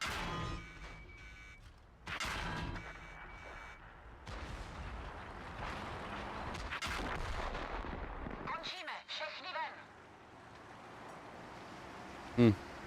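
Heavy tank cannon fire from a video game, booming in a few sharp loud blasts and rumbling bursts, with someone talking over the battle noise.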